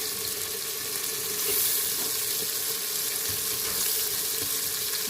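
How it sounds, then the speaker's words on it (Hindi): Soaked chana and mash lentils tipped into a cooking pot for tarka daal, giving a steady, fairly loud watery hiss and sizzle that runs unbroken for the whole stretch, with no voices. "अब इसमें हम अपनी दाल डाल देते हैं।"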